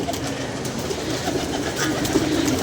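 Flock of pigeons outdoors, with soft cooing and bird calls over a steady rushing background, moderately near and without talk.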